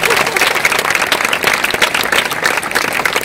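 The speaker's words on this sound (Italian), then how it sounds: "Un applauso." An audience at a civic ceremony gives a dense, lively round of clapping, loud and sustained throughout.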